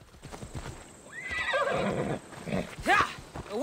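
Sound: horse neighing in video game

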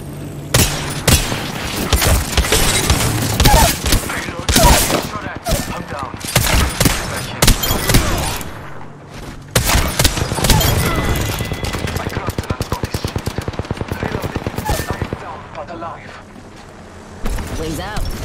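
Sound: 30-30 Repeater gunfire in the video game Apex Legends

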